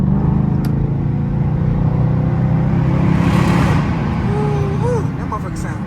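Loud, steady exhaust rumble from a straight-piped Dodge Charger R/T echoing inside a highway tunnel, droning continuously throughout with a slight drop near the end.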